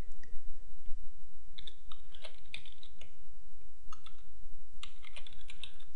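Keys clatter on a computer keyboard while a spreadsheet formula is typed, an irregular run of close, crisp taps and clicks over a steady low background hum, with no one speaking.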